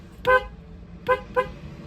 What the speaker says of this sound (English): Let's see how the horn sounds like.